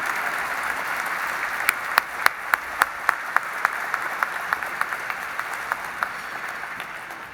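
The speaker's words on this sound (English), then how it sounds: "let's give him a big round of applause" Steady applause from an event audience honoring the US ambassador to the European Union, a dense, sustained wash of many hands clapping with a few sharper individual claps standing out, filling the whole stretch without talk.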